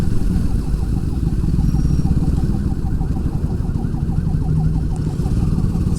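A police siren wails through traffic in fast, repeating up-and-down cycles, moderately distant, half buried under a loud, steady rumble of engine and wind from a moving motorcycle.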